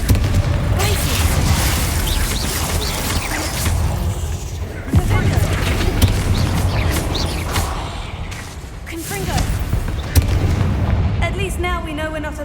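Blasting Confringo spells fired in Hogwarts Legacy give repeated heavy booms and bursts across a busy combat passage, with spoken voices mixed in among the blasts.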